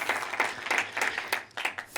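An audience at a talk applauds, a short burst of moderately loud, close clapping with separate hand claps audible over a couple of seconds.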